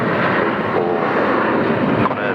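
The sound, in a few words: Qantas airliner taxiing past at Sydney Airport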